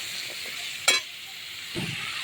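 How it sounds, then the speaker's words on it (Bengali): Potatoes and jackfruit seeds fry in oil with a steady broadband sizzle, broken by one sharp stir or scrape near the start and a low clunk toward the end, with no talk. "ভালো করে ভেজে নেব, তারপরে মশলা দিয়ে কষাবো।"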